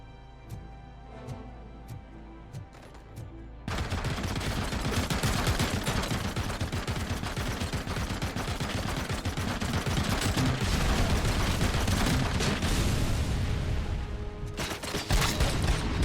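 Gunfire in the RoboCop Rogue City video game: after a few faint isolated shots, a sustained loud barrage of rapid repeated blasts runs for many seconds without letup.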